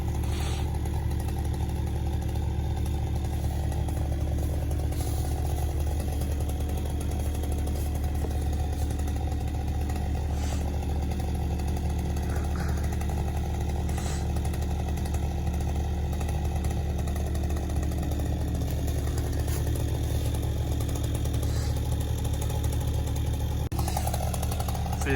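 A chainsaw drones steadily and loudly throughout, its engine held at a constant pitch during a large tree-felling job for firewood.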